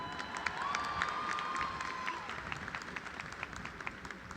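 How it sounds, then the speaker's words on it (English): A commencement audience claps and cheers at a steady moderate level with a few shouts and a sustained whistle, the crowd noise filling the whole stretch. "Let's give them another cheer."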